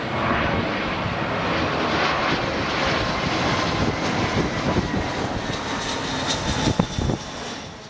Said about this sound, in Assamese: প্ৰথমখন বিমানে হজযাত্ৰীসকলক লৈ উৰা মাৰে